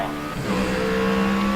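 A Formula B open-wheel race car, styled like an A1 GP machine, screams around Indianapolis in GRID Autosport, its engine whining at high revs with a rising tonal pitch, loud and close with no talk.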